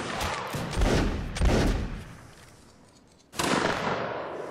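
Musket volleys from a line of soldiers in the game Napoleonic Wars: two loud, ragged crackling bursts close together, a fading lull, then another sharp volley that keeps rolling and crackling.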